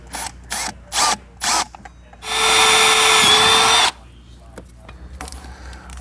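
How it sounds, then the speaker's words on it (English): A power drill bores holes in Dinan aluminum pedal covers on an E92 BMW M3, worked in the dark: a loud, steady whine lasting nearly two seconds, after several short mechanical clicks and before quieter handling noise. "Now I can just drill the right size holes right from the get."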